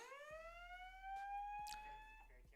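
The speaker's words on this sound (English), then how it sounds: "There's a fire alarm going off." A building fire alarm sounds as a rising, steady electronic tone with strong harmonics, heard faintly and at a distance, with a few soft knocks around it.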